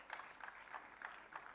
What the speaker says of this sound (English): Ladies and gentlemen, please give a big round of applause to special women team of second position holder